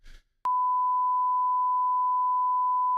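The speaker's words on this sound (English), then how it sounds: "it's like a emergency beep" A single steady electronic emergency beep sounds loud and unbroken for about two and a half seconds, preceded by a brief low rustle and a sharp click.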